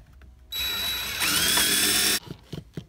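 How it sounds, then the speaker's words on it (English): A power drill whirs loudly for under two seconds, its pitch shifting as it bites into metal rivets holding a front speaker in a 2005 Toyota Prius, with small clanks and handling noises before and after. "I might have to drill out these rivets."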